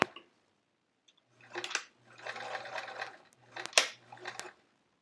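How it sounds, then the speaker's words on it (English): A domestic sewing machine stitches a pencil pocket in short back-tacking bursts, four quick runs of whirring and needle clatter separated by brief pauses, close and fairly quiet. "And we'll get some back tacking in here too."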